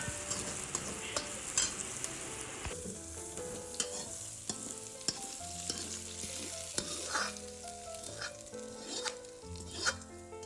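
Hot tempering poured into Kerala pulinkari, a tamarind-ginger curry, giving a lively sizzle and crackle as a spoon stirs and scrapes the pan close up, with no talk.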